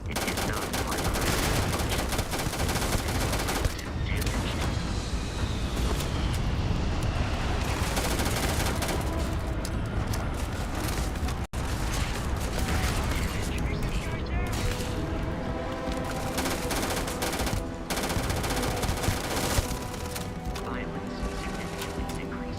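Sustained rapid gunfire in the space game Starfield, a dense continuous barrage with bursts and mechanical clatter filling the whole stretch, mixed with game music and occasional speech.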